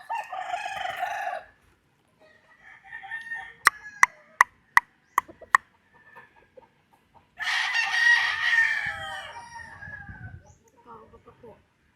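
A purebred Gilmore Hatch gamefowl stag crows loudly twice, with a series of sharp clucks between the crows and softer clucking trailing off near the end; no talk.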